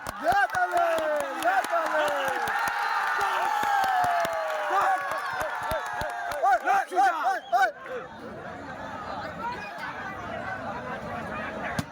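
A lively crowd at a kushti wrestling match claps rhythmically with chatter and excited voices mixed in, the applause fading toward the end.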